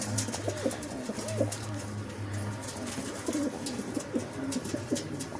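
Male Chinese pigeon cooing in repeated low rolling phrases, close and steady, with faint chirps from other birds behind and no talk.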